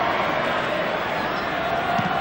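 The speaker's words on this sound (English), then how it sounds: "Crowd starting to chant easy." Football crowd at the 1982 Grand Final between Claremont and Swan Districts, a steady dense roar of many voices filling the stadium, sustained and even throughout.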